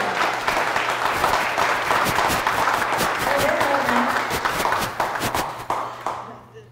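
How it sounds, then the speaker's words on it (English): Audience applause at a startup networking event, sustained crowd clapping that fades toward the end, with faint voices underneath. "Can we give it a round of applause for Jen Gruber?"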